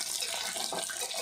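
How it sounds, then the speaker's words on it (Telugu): Dried white fish, home-dried, sizzling and frying in hot oil while being cooked to golden brown for a gongura curry; a steady, dense hiss with soft crackling throughout, close and fairly loud, no talking. "చూడండి వేగుతున్నాయి కదా చేపలు."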